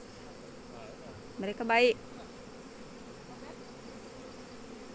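Apis mellifera honey bees at a bee farm in Langgam, Riau, making a steady low buzz that runs under the whole clip, with a short burst of speech partway through.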